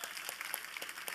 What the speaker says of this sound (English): So I want you to give these students a big round of applause